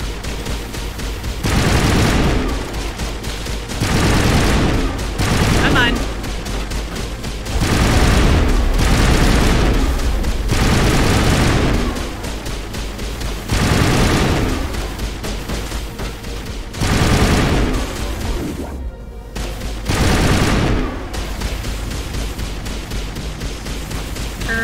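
Bursts of heavy gunfire from a Mass Effect Legendary Edition firefight, coming in repeated loud volleys every second or two with rapid shots inside each burst, separated by brief lulls.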